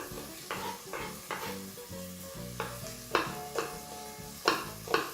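Chopped ingredients for mutton biryani sizzle steadily in a hot pan while a utensil scrapes and stirs in a repeated rhythm, close and clear.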